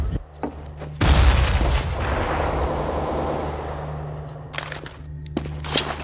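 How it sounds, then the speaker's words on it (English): A flashbang grenade goes off in CS:GO: a sharp loud bang followed by a long fading ringing wash that tapers over several seconds, with faint game noises at the edges. "Throwing flashbang."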